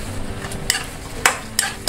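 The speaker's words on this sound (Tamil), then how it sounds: "இப்போ வெங்காயம் நல்லா வதங்கிட்டு இருக்கு" Onions frying in oil for a fish curry with brinjal and drumstick, a low sizzle broken by a few sharp scraping stirs of a spoon against the pan.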